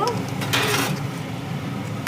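A spoon stirs tomato and asafoetida tempering in a pot while cooking aloo dhokli. Soft scraping and a few light metallic clinks sound close by, ending with a sharper knock.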